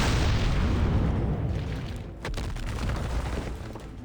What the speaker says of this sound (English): Cliff is collapsing, watch out!